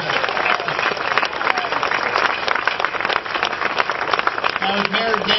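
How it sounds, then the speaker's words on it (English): A crowd applauds at an outdoor celebration marking the opening of the TriMet Orange Line transit project, a dense and steady wash of clapping lasting several seconds, with voices mixed in underneath. "I'm going to ask one more round of applause for everybody who's had anything to do"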